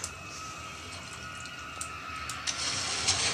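A character wading through water in the horror video game Amnesia, a soft continuous sloshing and trickling wash with a few brief splashy surges, moderately quiet and without speech.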